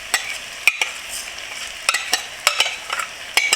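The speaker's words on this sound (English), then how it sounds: "Stir to combine." Jasmine rice, three cups of washed grains, being stirred into coconut milk and oil in a pot, giving a soft continuous scraping with several sharp spoon knocks against the pot, close and alone without talk.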